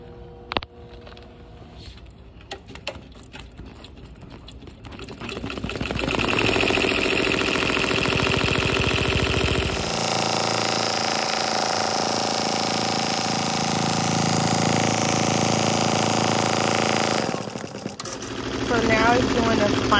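A sewing machine runs a zigzag stitch on a glitter applique on a satin baseball jacket, a steady mechanical whir that starts partway in and holds fairly loud to the end.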